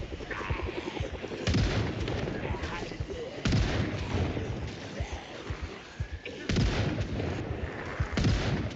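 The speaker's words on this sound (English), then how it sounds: "all he has to do is fire this shotgun" Repeated shotgun blasts in a wartime bombing video game, four loud booming shots spaced a couple of seconds apart over a dense rumble of battle noise and speech.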